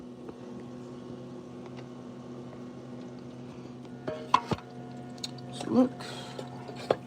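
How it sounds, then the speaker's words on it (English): Rice stirred in a cooking pot with a spoon, a soft steady scraping under nearby talk, with a few sharper clinks and knocks near the end. "stirring up the rice"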